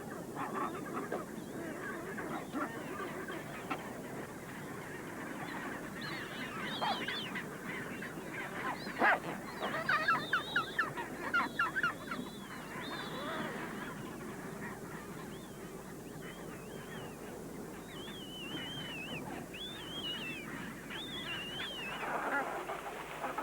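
A colony of chinstrap penguins brays and honks continuously, overlapping calls near and far, with a burst of louder squawks partway through.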